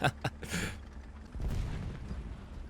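Artillery fire in the tank game War Thunder, with a few sharp gunshot-like cracks at the start, a muffled boom around midway and a low rumbling tail, fairly quiet overall.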